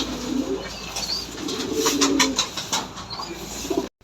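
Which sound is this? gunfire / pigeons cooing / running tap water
pigeons cooing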